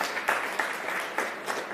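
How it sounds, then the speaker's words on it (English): An audience at a digital technology week panel claps in a short burst of applause, even and fairly close. The clapping swells in a few waves and carries on steadily to the end. "Another round of applause for Claire Munde."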